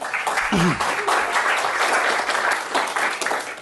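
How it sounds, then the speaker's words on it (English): Audience applause at a talk on the human factor in security and risk assessment, a broad, steady clapping wash from a crowd with a brief voice near the start. "Getting applause before I even start."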